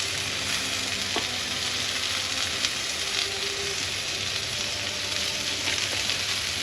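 Hash browns fry crisp in a hot pan, a steady close sizzle and crackle that runs unbroken from start to finish with no voices over it.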